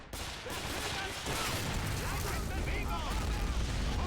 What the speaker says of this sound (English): He's going to throw some grenades. That's a lot of Greys. There's the grenade.